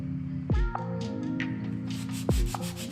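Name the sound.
sanding the edges of a large tray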